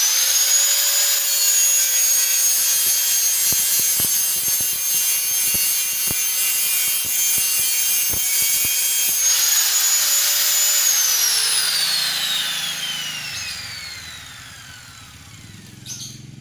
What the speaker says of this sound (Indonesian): sebelum kita las harus dibersihkan terlebih dahulu atau paling tidak gerinda terlebih dahulu